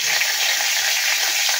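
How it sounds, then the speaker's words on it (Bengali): Bay leaves and dried red chilies sizzle steadily in hot oil, a continuous bright crackling hiss that stays close and even throughout, with no voices over it. "তেজপাতা শুকনো লঙ্কা ফোড়ন দিলাম"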